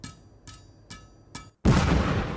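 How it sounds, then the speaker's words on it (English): Four brief metallic taps from an iron bar tamping a blast hole are followed by a short silence and then a sudden loud explosion that roars on to the end. "He was tamping that there hole, and there was an explosion"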